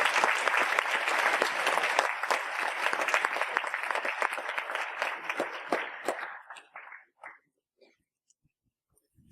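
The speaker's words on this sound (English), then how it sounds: "give yourselves a round of applause for all that" An audience at a motivational talk on focus breaks into sustained applause, dense and lively for several seconds before thinning into a few scattered claps and fading to near silence.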